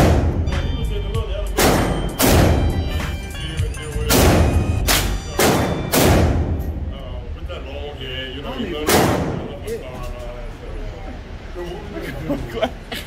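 A four-barrel .357 Magnum pistol fires about seven loud, booming shots spaced irregularly a second or two apart outdoors, each with a short echoing tail, while people talk between the shots.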